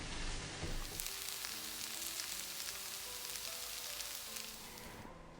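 Chopped onions fry in a pan over medium heat with a soft, steady sizzle that stays fairly quiet and even throughout. A faint clatter comes at the start and a brief knock at the end.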